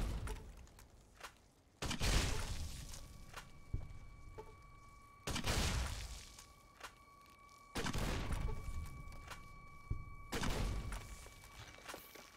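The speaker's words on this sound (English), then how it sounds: "Just try out the grenade launcher." Grenade launcher shots in Fallout: New Vegas, four loud booming blasts spaced a few seconds apart, each trailing off, with faint clicks and thumps in between.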